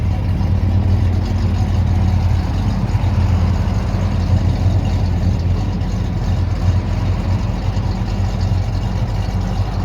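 A 2005–2006 Mustang GT fitted with an Edelbrock E4 supercharger idles through a budget muffler exhaust, a steady, loud low rumble that holds even throughout, with faint passing traffic in the background and no talking.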